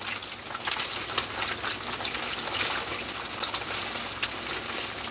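Tofu frying in a pan for a home-cooked Mother's Day meal, a steady close hiss and crackle of hot oil that holds evenly throughout with no talk.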